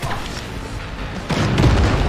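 A loud booming explosion in the video game Cyberpunk 2077 erupts partway through over a continuous rumbling game soundscape, with a heavy low-end thud.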